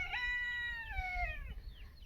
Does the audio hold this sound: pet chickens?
yes